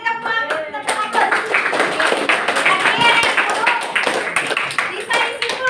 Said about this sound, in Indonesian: Oke, bagus sekali, beri tepuk tangan.